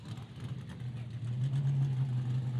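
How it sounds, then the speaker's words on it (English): Loud Corvette engine idling at a street racing knockout event, a steady low rumble that builds and grows stronger toward the end, close by, with faint crowd or voices in the background. "I'll just get out of the way of this very loud Corvette."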